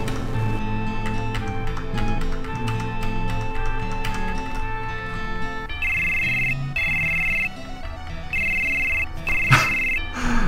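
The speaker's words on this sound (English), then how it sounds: "Every time Cloud's phone rings, he's like so confused as to what it is." Cloud's phone rings in the video game Final Fantasy VII with a repeated electronic ringtone, bursts of beeping tones interrupted by short pauses, playing over steady in-game background music.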